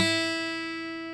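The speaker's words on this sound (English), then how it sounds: "and that's that open first string." A single open first string on an acoustic guitar is plucked once and rings clearly, its bright steady tone slowly decaying without any talk.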